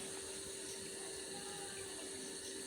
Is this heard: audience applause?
no